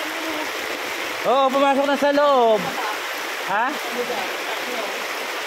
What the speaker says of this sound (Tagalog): Biglang lakas na ng ulan.